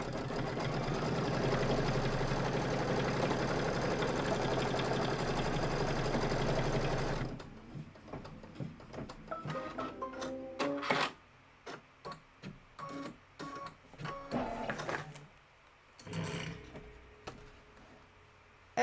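A sewing machine runs a continuous, loud stitching burr while sewing a tack-down line, then breaks into short stop-start bursts of stitching separated by quiet pauses and faint handling clicks.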